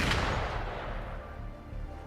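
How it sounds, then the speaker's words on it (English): Dense bursts of gunfire from the Wuthering Waves video game, loud and continuous with a heavy booming low end, sustained through the whole moment with no break. "I think the gunfire sound is a bit weird."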